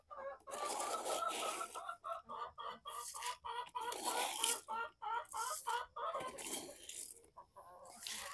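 Several chickens cluck in rapid, repeated bursts close by, with short pauses between phrases, fairly quiet overall.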